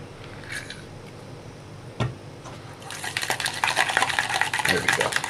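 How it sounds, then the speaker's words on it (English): Homemade mayonnaise being stirred after a few drops of lemon, a utensil scraping and clicking against a bowl in a quick, busy rhythm that grows louder and denser partway through, close up with no talking. "So just a few drops of lemon, and mix it around."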